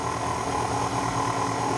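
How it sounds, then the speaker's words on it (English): Electric stand mixer running at low speed through cookie dough with flour just added, a steady continuous motor hum and whir, close and even throughout. "I'm just going to gently jog the mixer"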